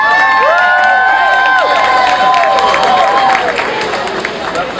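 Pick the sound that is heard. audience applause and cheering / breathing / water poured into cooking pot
audience applause and cheering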